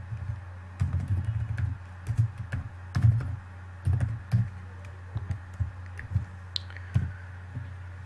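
Python hello-world code typed on a computer keyboard: close, clicky keystrokes in short bursts and pauses over a steady low background hum.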